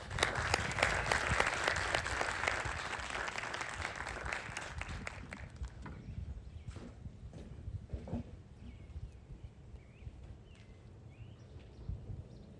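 A commencement audience at a Marymount University College of Health and Education ceremony applauds as a speaker is welcomed. The clapping is dense and loud at first, then thins out and fades over several seconds into scattered claps.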